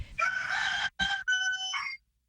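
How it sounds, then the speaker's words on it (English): A pet rooster kept indoors crows loud and close, one long cock-a-doodle-doo broken by a brief gap and ending in a drawn-out final note, with no talking. "with a rooster sleeping in the house, Peyton has already learned how to get up early"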